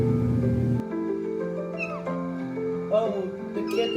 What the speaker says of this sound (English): you found some kittens